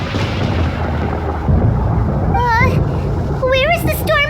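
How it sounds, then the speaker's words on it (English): Thunder rumbling in a Genshin Impact storm scene, a steady loud roar under a character's high-pitched voice that speaks over the second half. "Paimon hears thunder!"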